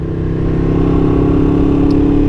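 A Ducati Streetfighter V2 motorcycle fitted with Rizoma drag bars, its engine droning at a steady, even pitch throughout a short stretch of riding, loud and close with no pauses.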